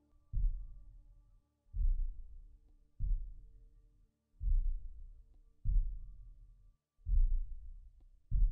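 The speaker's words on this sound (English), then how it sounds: "Hearing heartbeat?" Slow, deep video game heartbeat thumps repeating about every second and a half, muffled and booming, with nothing else audible between beats.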